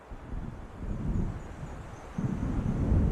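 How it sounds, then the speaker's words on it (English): Low rumbling thunder of an approaching storm in Alan Wake Remastered on PS4 rolls continuously with wind-like noise, swelling near the end, moderately quiet and without speech. "It seems there's a storm coming."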